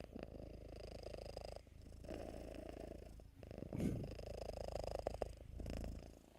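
A pet cat purrs steadily up close, a continuous low rumbling purr that runs through the whole stretch with a few brief shifts in level, with no voices over it.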